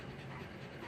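Nursing puppies make soft, faint whimpering and whining noises close by, a short, continuous low murmur of small cries.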